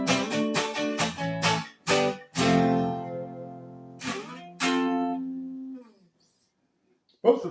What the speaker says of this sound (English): Neck pickup sounds like this.